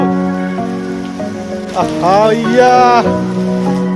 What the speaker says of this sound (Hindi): तो भैया तगड़ी वाली बारिश स्टार्ट हो चुकी है।